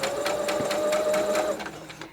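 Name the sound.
sewing machine stitching fabric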